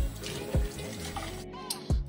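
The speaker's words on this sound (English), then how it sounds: "I'm rinsing this out with hot water because, yeah, I just think it needs some hot water up in there." A makeup brush is rinsed under hot running tap water, with a continuous splashing trickle, a few louder gurgling bursts and drips, and water briefly cutting off and restarting near the end.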